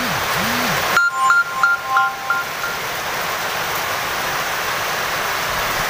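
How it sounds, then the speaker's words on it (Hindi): Heavy rain with hail pours down in a steady, loud hiss of drumming drops, with a brief series of electronic beeps near the start. "बारिश भी बहुत तेज है, ओले पड़ रहे हैं"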